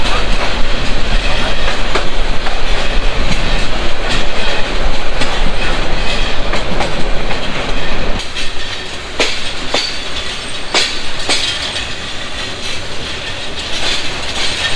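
Mohanganj Express passenger train running through an open station, loud continuous rumble and clickety-clack of wheels on rails from on board, easing slightly midway with sharp rhythmic clacks over joints.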